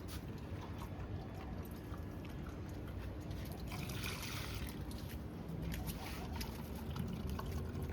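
Water poured by the glassful from a bucket onto garden plants, making a steady, continuous trickling splash that stays close and fairly loud throughout.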